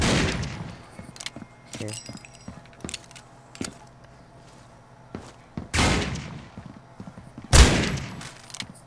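Gunfire in a shooter video game, heard as several sharp broadband bursts spread through the clip, with the loudest near the end, over quieter game noise and a brief spoken word.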